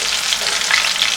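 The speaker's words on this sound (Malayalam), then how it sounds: "മീൻ നല്ലോണം ഫ്രൈ ആയിട്ട് ഇത് നമുക്ക് എണ്ണയിൽ നിന്ന് കോരിയെടുക്കാം." Fish pieces frying in hot oil, a loud, even hissing sizzle with fine crackle, close by and continuous, nobody talking.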